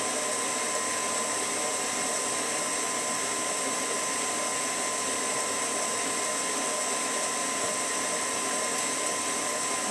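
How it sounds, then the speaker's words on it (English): An electric mixer whips eggs until foamy for icing, a steady loud high-pitched whirring drone that holds unchanged throughout with no talk. "We're going to let these eggs get kind of foamy and just starting to be whipped together."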